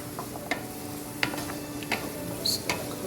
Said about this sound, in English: And then we're going to be adding our butternut squash.